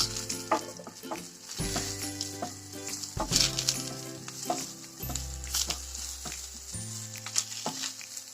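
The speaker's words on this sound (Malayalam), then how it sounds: "കറിവേപ്പില ഇട്ട് കൊടുക്കാം." Curry leaves dropped into hot oil for a Kerala pappadam varavu sizzle and crackle steadily and close, with music playing throughout.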